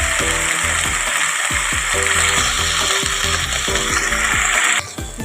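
Vegetables fry in a hot pan with a bright, constant sizzle, while a utensil scrapes and stirs in a quick, uneven rhythm of repeated strokes; the sizzle briefly dips near the end.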